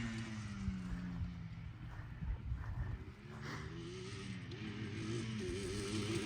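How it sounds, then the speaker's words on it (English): A two-stroke quad engine warms up after a cold start, idling with a steady buzzing drone and a brief dip partway through before it settles again. It is close and continuous, with no talk. "You can hear the two-stroke starting to open up a little bit now."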